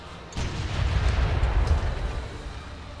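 Artillery strike on a settlement in Civilization V, a deep rumbling boom that swells quickly and rolls on for a couple of seconds before fading slightly.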